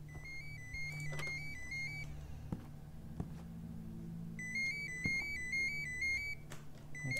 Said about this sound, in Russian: Телефон, вот.